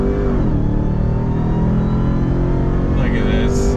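A 2021 Ram TRX pickup's engine roars loud and steady under full throttle, a dense, sustained rumble from up close that holds throughout, with a rising whine near the end.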